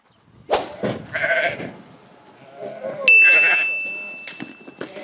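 Sheep bleat several times at close range on a farm in Kyrenia, Cyprus, a few overlapping calls, with a faint ding and some background farm noise.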